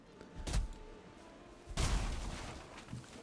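Heavy rifle shots from a sniper-type rifle in a video game: two sharp gunshots about a second apart, the second louder and followed by a long rumbling tail, with no talking.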